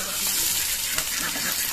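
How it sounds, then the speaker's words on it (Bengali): A hilsa fish tail rubbed with salt and turmeric fries in hot oil, making a dense, steady close sizzle with faint crackles and no talking. "আমি একটু নুন হলুদ মেখে মাছটা লেজটা ভেজে নিচ্ছি"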